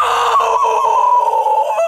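A chicken gives a loud, close, drawn-out squawking cluck lasting about two seconds, heard alone and fading at the end.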